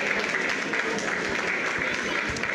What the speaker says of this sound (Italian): inviterei tutti a fare un grosso applauso e un ringraziamento